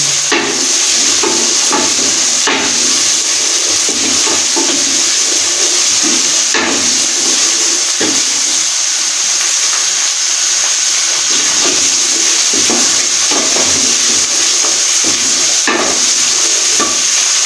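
Garlic and ginger paste fries in hot oil for restaurant-style chickpea curry, giving a loud, steady sizzling hiss throughout with occasional clinks and scrapes of stirring.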